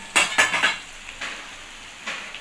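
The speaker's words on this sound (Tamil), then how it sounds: "இந்த சிக்கன் வேகணும்ல, அதுக்காக ஒரு தட்டை போட்டு மூடி வச்சுருக்கேன்." A plate clinks down as a makeshift lid over a pan of chicken chukka, giving a few sharp metallic-ceramic taps close up, then lighter knocks after a short pause.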